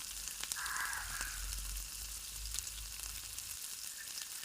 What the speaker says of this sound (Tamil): எண்ணெய் காஞ்சிச்சு. இப்போ வடுவும் சேர்த்துக்கலாம். வடுவும் பொரிஞ்சிச்சு. தட்டி வச்சுருக்க பூண்டு சேர்த்துக்கலாம்.